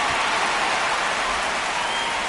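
Steady broadband hiss of rain pouring down on a ballpark during a Twins at Guardians rain delay in the MLB 26 baseball game, continuous and fairly loud with no voices.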